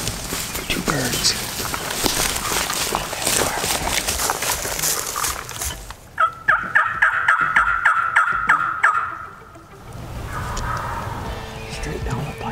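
A wild turkey gobbles in a rapid rattling burst from some distance in Wisconsin, following a stretch of rustling and people talking quietly.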